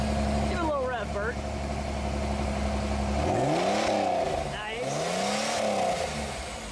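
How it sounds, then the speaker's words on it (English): A Pontiac Fiero engine idles steadily, then is revved twice in quick rising-and-falling swells, heard close with a brief voice over the idle. "Give it a little rev, Bert."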